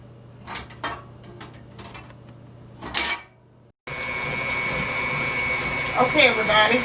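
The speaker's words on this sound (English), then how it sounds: "I'm creaming the butter" An electric mixer creams butter for a red velvet cake, starting with a sudden, loud, continuous whirring drone after a few seconds of quiet clatter and brief talk.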